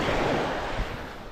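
Sea surf washes continuously against the shore, a steady broadband roar with slight swells and some wind buffeting the microphone, heard alone without voices.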